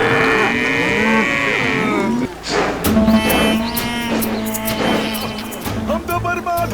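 Cartoon cows and bullocks moo repeatedly at close range in a farm scene, their long lowing calls overlapping with one another and with a voice talking.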